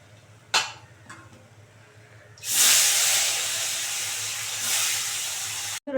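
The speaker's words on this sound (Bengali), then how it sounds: "বাদ বাকি কটাও ভেজে নেবো" Lata fish being fried in hot oil, opening with a couple of faint clicks before a loud sudden hiss bursts up and keeps sizzling steadily close by, then cuts off abruptly at the end.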